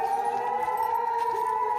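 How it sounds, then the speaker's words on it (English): An Israeli missile warning siren wails steadily during a missile and drone attack, its tone holding high and even throughout, with no voices over it. "As warning sirens blared, Israelis ran for cover."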